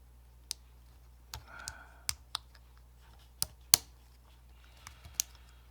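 Small plastic parts are fitted and snapped into place on an HO scale Atlas CN GP40-2LW locomotive during a DCC sound install, producing sparse, sharp, close clicks over a low steady hum.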